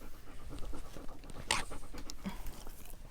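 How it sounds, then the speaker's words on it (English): A dog pants rapidly and close by in a hot indoor setting, with a steady rhythmic breathy panting running throughout, alone without talk. "Sorry if you hear him panting."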